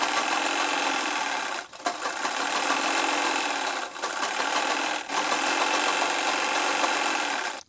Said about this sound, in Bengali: এটাকে এরকমভাবে সেলাই করে জয়েনিং করে দিই।